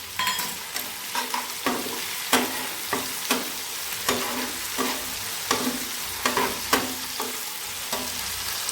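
Chopped tomato fries in a pan over medium heat with a steady sizzle, broken by regular scraping strokes of a spatula stirring it, close and clear with no voices.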